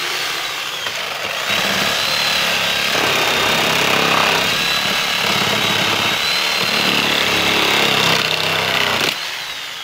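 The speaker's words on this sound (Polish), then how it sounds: "wkładam sobie brzeszot między deski i tnę" A hacksaw blade for metal cuts between the boards of a standard wooden pallet, producing a loud, continuous rasping drone with a high whine, held steady for most of the stretch before stopping abruptly.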